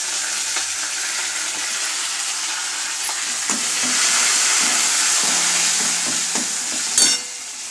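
Curry leaves and asafoetida hit hot oil with golden-browned dal for mango rice, a loud, even sizzle and hiss with stirring scrapes and a sharp clatter near the end.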